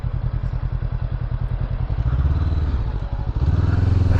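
A Honda CB500 motorcycle rides around a small course, its engine thrumming in a close, pulsing rhythm that swells in pitch and loudness as the throttle opens twice.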